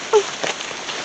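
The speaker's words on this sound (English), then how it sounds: "if we hurry up and come out of the rain." Rain falls in a brief steady patter with a few louder drops standing out, close and fairly loud.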